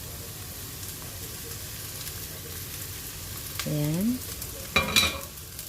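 Rice stirred and fried in a pan for a home-made chicken roast dish gives a soft continuous sizzle, broken by a few scraping stirs near the end, while someone speaks briefly.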